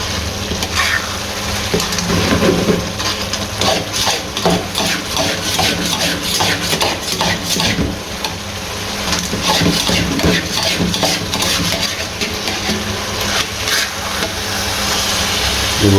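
Mutton karahi being stirred in a metal pan over heat, a steady scraping and clinking of a spoon against the pan under a continuous sizzle, close and fairly loud throughout.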